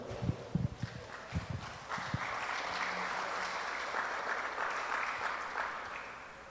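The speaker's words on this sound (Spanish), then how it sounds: "Denle un fuerte aplauso al Señor." A church congregation breaks into applause during a service, starting with a few scattered claps before swelling into a dense, steady wash of clapping that continues to the end.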